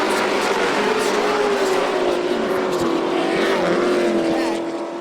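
Pro trucks race on the dirt oval at Volusia Speedway Park, engines roaring loud and sustained at close range, with a steady high drone that fades slightly at the end.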